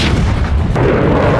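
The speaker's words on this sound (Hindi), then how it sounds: "सीरिया पर नॉन स्टॉप बमबारी जारी है।" A bombing explosion in Syria produces a loud, continuous, heavy rumbling blast that fills the entire short moment without a pause.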